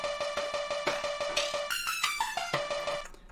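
A produced beat plays with crisp, regularly spaced percussion hits nudged slightly off the grid under a bright melodic line, moderately loud and alone, ending after a few bars.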